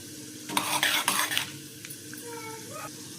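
Green chilies, curry leaves and garlic dropped into hot oil for a lemon rice tempering, sizzling and stirred with a metal spoon scraping the pan in several bursts, close, with softer frying hiss afterward.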